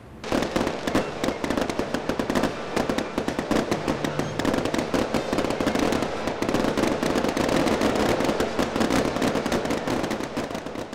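A dense, continuous barrage of illegal fireworks bursting and crackling, loud and close, with rapid overlapping bangs throughout.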